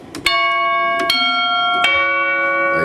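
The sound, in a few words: bell sound in an FL Studio beat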